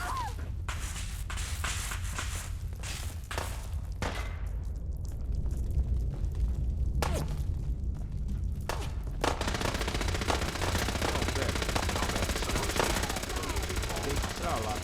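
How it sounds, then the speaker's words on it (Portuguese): Heavy gunfight in the Fallout 4 video game, with dense bursts of automatic fire and rapid shots crackling almost continuously, loud and close, with occasional footsteps and a thumping blast mixed in. "tá rolando o maior tiroteio da porra aqui"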